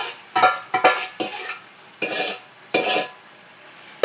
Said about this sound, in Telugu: ఇప్పుడు చికెన్ వేసేసుకుందాం.